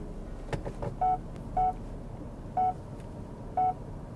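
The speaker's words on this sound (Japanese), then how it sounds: "このペッペ音ってよく言ってる新しいバックの音はあんま好きじゃないですね。" Four short, evenly spaced electronic beeps from a Lexus RX 500h F Sport Performance in reverse, clear and close over a low cabin hum.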